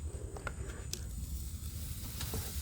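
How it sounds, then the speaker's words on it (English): Steak searing on a charcoal grill gives a steady, fairly quiet crackling sizzle with scattered small pops, and no voices over it. "Nice sizzle."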